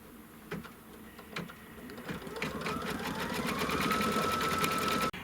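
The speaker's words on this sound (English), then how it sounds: "now it's just going to do what they call the cover stitch or the satin stitch around the flower" A Kimberbell embroidery sewing machine runs a satin stitch around an appliqué flower on a quilt block, its rapid close-up needle whir rising in pitch and speed into a steady hum before stopping abruptly.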